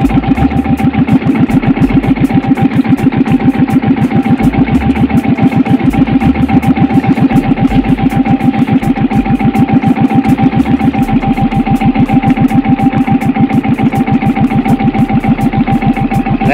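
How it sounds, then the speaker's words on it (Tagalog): A boat engine chugs steadily at a fast, even rhythm, loud and close, running without pause and with no talking. "Palag ng makina mo ah."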